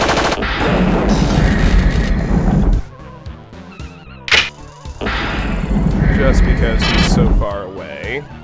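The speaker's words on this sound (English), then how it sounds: "Let's handle him with our mag pulse." Mag pulse weapon in the System Shock game discharging at a security bot: dense, loud bursts of synthetic gunfire-like blasts filling the first three seconds, then a sharp single crack, then another long heavy barrage.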